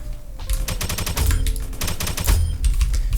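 Rapid automatic FAMAS gunfire in the Roblox shooter Aimblox, a dense string of loud, close shots repeating steadily for about three seconds with game sounds underneath and no talking.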